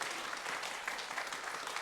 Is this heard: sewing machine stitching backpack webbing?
no